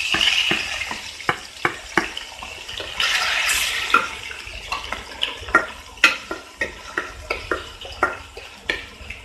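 Chopped onion, tomato and green chili hit hot oil with a bright hissing burst, followed by a steady run of close spoon knocks against the pan as the mix keeps frying.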